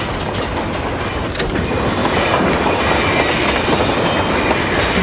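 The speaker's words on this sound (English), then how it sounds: "we just jumped onto a speeding train" A speeding train rushes past in loud, continuous rail noise, with steady clickety-clack of wheels on track and a faint squeal, no voices over it.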